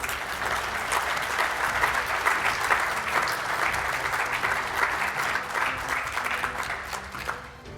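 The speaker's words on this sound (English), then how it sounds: "I would like to ask that we all extend a congratulatory applause for Sandy." Conference audience at the 2025 SDP Hero Awards ceremony giving sustained congratulatory applause, a full, even roar of clapping that holds steady throughout and fades a little at the close.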